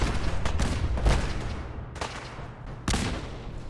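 Explosions in the video game Fallout 4 ring out as several sharp broadband blasts, three or four bursts spaced a second or so apart over a rumbling, noisy background.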